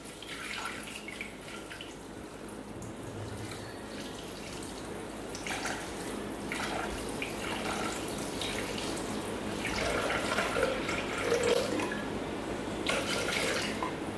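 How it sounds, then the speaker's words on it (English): Water runs and splashes into a Thermomix bowl, a soft continuous trickle with some drips, fairly quiet and close, with no voices. "we're going to weigh in 500 grams of water"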